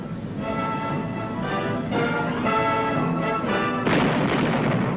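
A rapid series of heavy booming shots from a Vietnam War landing-craft gunboat's 40mm and 20mm cannon and 81mm mortar, several blasts in a row with a rumbling, echoing tail, heard from a distance.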